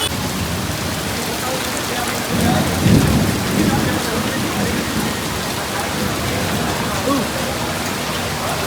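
Steady heavy rain roars on surfaces throughout, with a low rumble of thunder swelling briefly partway through.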